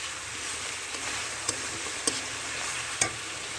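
Spiced masala with dried red chilli powder fries steadily over low heat for a magur catfish curry, a soft continuous sizzle broken by a few sharp clicks of a spoon stirring the pan, close and alone.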